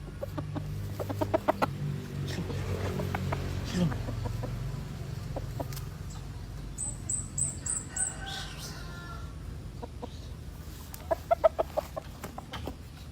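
Chickens clucking and a rooster crowing on a village property, scattered clucks and calls, moderately near, mixed with background talk and low ambient noise.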